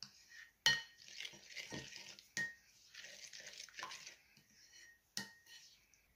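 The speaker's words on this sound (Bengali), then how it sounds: "ভালো করে মিক্স করে নিব।" Spoon clinking against a bowl while salt, chili powder and spices are stirred into a chicken reshmi kebab marinade, with three sharp metallic clanks among softer scraping and stirring.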